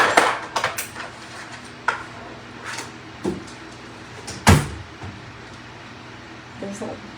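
Metal cutlery rattling and clinking as a fork is pulled from a kitchen drawer, several sharp clatters and a loud knock close by, with a drawer or cupboard sliding, then quieter handling.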